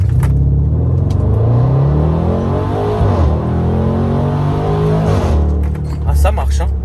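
A 565-horsepower car pulls away hard in sport mode, its deep engine rumble surging steadily and close through the whole stretch, with people talking over it inside the cabin.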